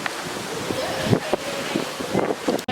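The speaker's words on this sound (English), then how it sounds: "it's a little windy out here in Hawaii" Strong wind gusting outdoors by the ocean in Hawaii, a steady roaring rush with buffeting microphone gusts and surf underneath, loud and close throughout.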